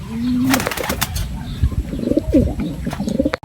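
A racing pigeon coos close by as it arrives at its loft, with a burst of flapping wings and a soft scrape of movement, ending in a sharp thump.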